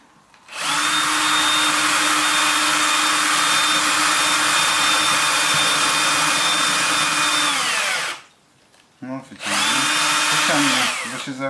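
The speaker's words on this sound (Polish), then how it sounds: "Do stołu się przewiercimy?" A power drill bores through wood while a bird feeder is built with children, giving a loud steady whine for about seven seconds, then a short pause and a second burst of drilling.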